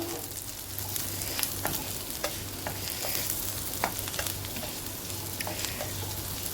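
Dried chillies frying in a pan for a Thrissur-style tapioca stew, with steady broadband sizzle and a low hum, punctuated by scattered clicks and scrapes as they are stirred, moderately close with no talking.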